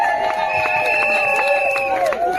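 Wedding guests at a civil ceremony cheer loudly with sustained high voiced calls and scattered claps, a steady crowd noise close by throughout.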